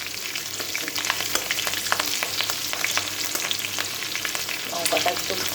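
Green chilies and nigella seeds sizzle in hot oil in a pan, a steady close crackle with sharp pops and occasional stirring scrapes, no voices.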